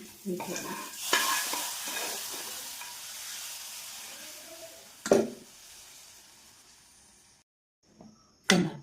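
Hot tempering with chillies sizzles and crackles as it is poured into an okra buttermilk curry. A loud initial hiss fades into soft frying, followed by a few sharp bursts of sizzling and stirring.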